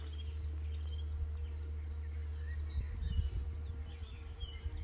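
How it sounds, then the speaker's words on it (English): Dense buzzing of many wasps around a weak hive they are robbing hums steadily under faint outdoor ambience, with a few louder close passes near the end. "A lot of wasps"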